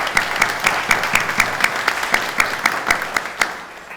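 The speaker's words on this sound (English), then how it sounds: "let's give them a big round of applause" A round of applause for Lord's Place employees at a landlord open house event, a steady crowd clapping with several sharp, evenly spaced claps standing out near the front.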